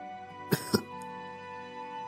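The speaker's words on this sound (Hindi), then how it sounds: "खांसी है और कुछ नहीं" Two quick, sharp coughs close by, followed by quiet.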